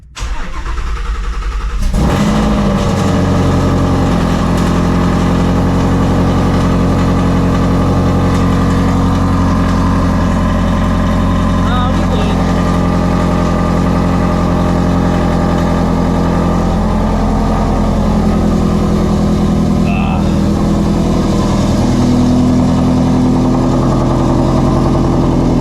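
A supercharged Ford Shelby GT350 Mustang engine starts with a sharp catch, then settles into a loud, steady, deep idle with slight revving swells, heard up close for over twenty seconds with no talking.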